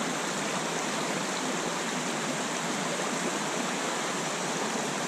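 A river stream pours steadily into a large waterfall pool where native brook trout live, giving a loud, continuous broadband rush of water with no break and no voices.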